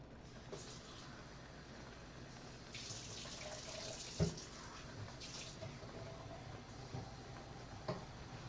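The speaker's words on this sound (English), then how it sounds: "I'm going to fill this up with water" A tap runs steadily into a container to fill it with about a liter of water for dyeing yarn, a soft continuous splashing with a few small knocks and clinks, fairly quiet throughout.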